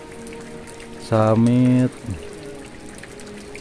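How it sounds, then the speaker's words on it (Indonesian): Rain falls at the base camp of Gunung Guntur before dawn, a steady, even wash of drops that fills the background, with a person's voice speaking briefly over it. "hujan mulai turun di base camp di camping Gunung Guntur"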